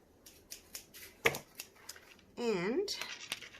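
Scissors roughly cutting around a resin star template, giving a series of soft, close snips and crisp clicks in an uneven rhythm, with a brief stretch of rustling handling noise partway through.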